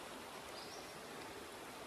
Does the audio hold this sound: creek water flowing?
yes